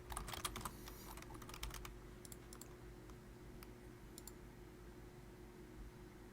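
Quiet, close computer keyboard typing while coding in Java: quick bursts of key clicks at first, then scattered single taps against a low hum.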